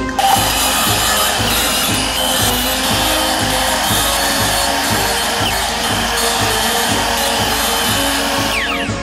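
Power driver sinking a screw into a 2x4 board during a DIY camper build on a kei truck, a rapid ratcheting, pulsing whir that runs steadily for several seconds, close and loud.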